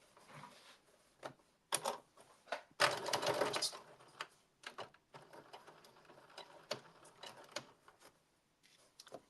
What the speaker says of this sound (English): I'm going to back stitch here at the waist band, at the waist edge, and go all the way up to the dart